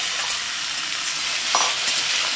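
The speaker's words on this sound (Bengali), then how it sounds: "এবার এটাকে একটু ভেজে নেবে, মূলোটাকে হালকা একটু এরকম ভেজে নেবে।" Radish pieces lightly frying in a pan while being stirred, a steady close sizzle with faint scraping from the stirring and no voices.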